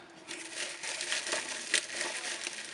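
Bubble wrap packing material from a parcel of light bulbs being handled and crinkled at close range, a steady dense crackle with brighter snaps throughout, no talk.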